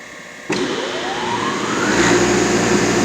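A large industrial gear-cutting machine with independent oil pumps starts abruptly and then runs, a loud steady whine and hum whose pitch climbs as it spins up, with no talk.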